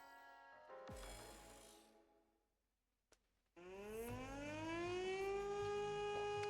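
Sirens in the game Punishing Gray Raven. A brief tonal burst drops away into near silence, then a single click, then a loud rising siren wail that swells and holds to the end.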